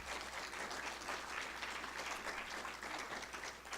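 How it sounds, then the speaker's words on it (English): Audience applause at a symposium in a museum setting, a continuous, fairly soft roar of many hands clapping evenly for the whole span, with no talk over it. "my staff deserves a big round of applause"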